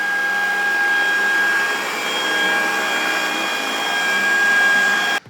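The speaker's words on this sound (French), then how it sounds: "Celui-ci fait moins de bruit, cependant, je trouve que le bruit est un peu plus aigu" A Rowenta Serie 95 robot vacuum cleaner runs with a steady, high-pitched whine and a whooshing hum, close by, before cutting off abruptly at the end.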